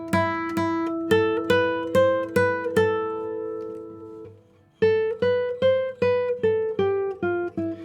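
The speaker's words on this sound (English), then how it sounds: "because this same guitar with the same mic and everything, if I was just using this pick, would sound like this." An electric guitar is picked note by note through a microphone: a steady run of bright, ringing plucks, a brief pause near the middle, then another even sequence of single picked notes, close and clear with no talking.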